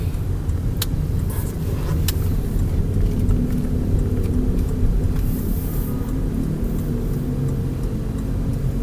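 A car engine rumbles low and steady while driving slowly through city traffic, with a continuous road hum and a few faint clicks over it.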